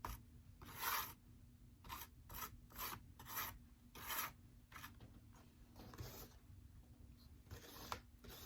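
A scraper rasps across Venetian plaster on a mixed media art surface, making repeated short strokes close by, some louder and some faint, with no talking.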